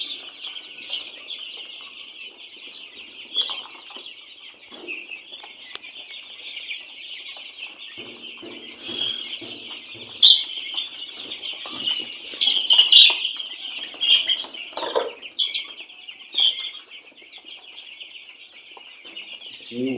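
Noiler and broiler chickens in a shared pen keep up a dense, constant chorus of clucks and chirps, with bursts of wing flapping and scuffling scattered throughout, heard close by.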